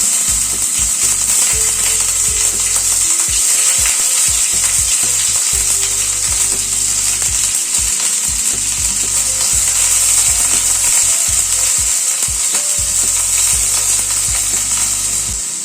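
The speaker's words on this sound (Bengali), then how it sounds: "পনিরগুলো একটু হালকা করে ফ্রাই করে নেব।" Paneer cubes frying in white oil in a pan, a loud, continuous close sizzle with bright hiss and occasional scraping or stirring, steady throughout with no talk.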